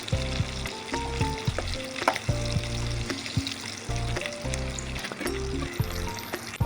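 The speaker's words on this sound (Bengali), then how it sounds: "বাকি পকোড়াগুলো ঠিক একইভাবে ভেজে ভেজে তুলতে হবে।" Chicken pakoras coated in cornflour or flour and bread crumbs frying in hot oil, a steady close sizzle with stirring and faint clinks, with a constant background hum and no talk.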